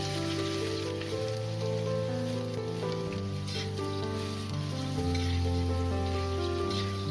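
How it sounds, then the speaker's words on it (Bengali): Carrots fry in hot oil for Bengali fried rice, giving a steady, close hiss of sizzling that runs unbroken under faint background music. "গাজরটা অল্প একটু ভেজে নিয়ে"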